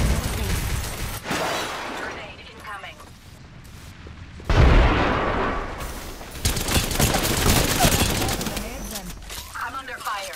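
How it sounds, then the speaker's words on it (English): Rapid bursts of gunfire crackle in an Apex Legends match, heavy automatic volleys and booming impacts arriving in uneven clusters, loudest near the middle and end, with game sounds layered over them. "I'm under fire."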